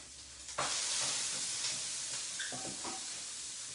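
Spaghetti carbonara stirred in a hot pan, a steady sizzle and hiss with soft scraping strokes running throughout, fairly close and unbroken by talk.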